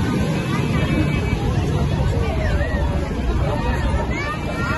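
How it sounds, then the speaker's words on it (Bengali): A crowd hubs on Digha beach at night, a dense, steady wash of many distant voices mixed with wind buffeting the microphone and faint surf behind it. "লোকের ভিড় কি বাবারে।"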